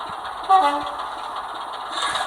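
A Sutton's Locomotive Works Class 24 model locomotive runs with a steady mechanical hum and faint clicking, with a brief louder tone just before the half-second mark, alone with no talk.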